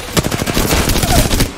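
Apex Legends battle royale match with rapid automatic weapon fire, a fast stream of loud close shots in quick succession filling the whole moment, with game sounds layered underneath.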